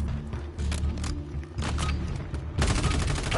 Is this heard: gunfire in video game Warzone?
yes